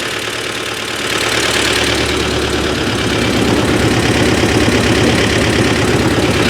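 A T-40AM tractor engine runs steadily and loudly with a continuous low mechanical throb, picking up slightly in intensity after the first second and holding even throughout.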